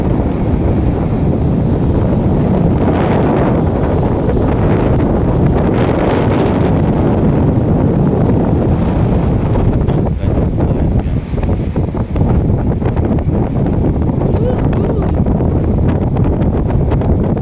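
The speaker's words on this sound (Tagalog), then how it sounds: "Lakas ng hangin." Strong wind roars constantly at Castle Point, New Zealand, on a rocky fishing shore, buffeting the microphone with a loud, unbroken rumble.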